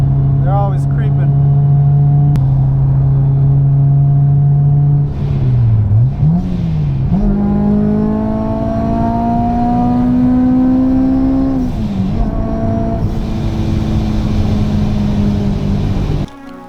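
A car driven at night along local roads, the engine drone rising and falling with gear changes and revving, close and loud from inside the cabin.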